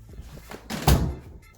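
A handleless bedroom door in a house is pushed open with a single dull, close thunk and a brief rattling bump, with no talk over it.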